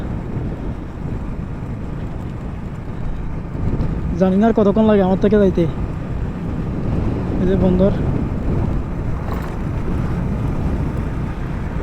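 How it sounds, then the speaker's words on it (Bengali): Strong wind buffets the microphone of a motorbike ridden slowly over a flyover near Chittagong port, a steady roar running throughout while someone talks and a harmonic tone sounds briefly. "প্রচুর বাতাস প্রচুর আমি এই জন্য বাতাসের কারণে বাইকটা একদম স্লোভাবে রাইড করতেছি"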